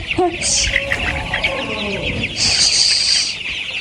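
Farm chickens cluck and squabble close by in a poultry shed, a dense run of squawks and short calls over a steady noisy background.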